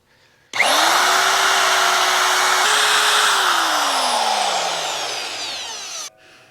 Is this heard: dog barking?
no